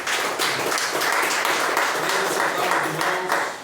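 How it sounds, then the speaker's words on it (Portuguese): Congregation applauding inside a church service, a steady wash of many hands clapping at even loudness for a few seconds, with a faint voice underneath. "As palmas agradecem ao Senhor Jesus."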